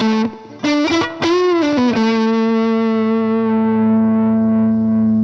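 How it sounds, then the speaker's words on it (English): An electric guitar played through an IK Multimedia TONEX amp model with reverb: a few quick picked notes, then a sustained distorted chord rings out and slowly decays with a reverberant tail. "Let me give it a little bit of reverb."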